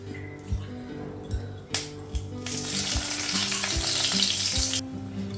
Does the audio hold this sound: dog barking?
no